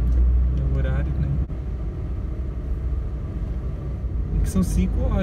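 Trucks pass on a busy highway near the Rodoanel, a broad low rumble swelling and fading near the start and end, with people talking over the traffic.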